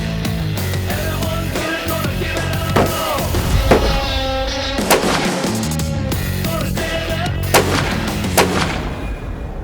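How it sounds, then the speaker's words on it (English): An STW rifle from McWhorter firing 180-grain VLD bullets at a hunting range on a safari: several loud, sharp shots with rolling echoes over constant background noise, no talk. "For my STW, I'm going to be shooting 180 grain VLD."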